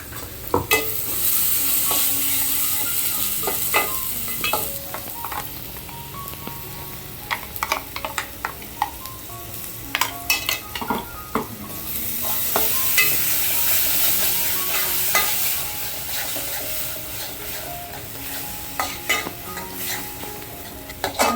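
Ground masala paste stirred in a pan for a prawn and dried bombil curry, a steady sizzle with frequent scraping and clinks of a spoon against the metal, continuous and close.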